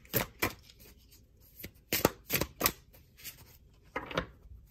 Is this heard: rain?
no